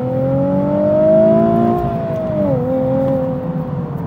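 A 2017 Nissan Nismo 370Z accelerates hard in second gear, the engine note rising steadily then dropping briefly at a shift before climbing again, loud and close from inside the car.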